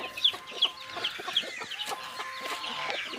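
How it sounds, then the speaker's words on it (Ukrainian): Broody hens cluck softly and repeatedly nearby with their five chicks, faint high peeps mixed in, a gentle continuous farmyard murmur. "Квочечки повиводили своїх курчаток, тільки чомусь їх п'ятеро, а не шестеро."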